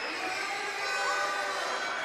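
A basketball crowd at a Big V Division 1 women's game between Craigieburn and Western Port gives a steady, broad murmur and groan after a missed free throw, with no single voice standing out.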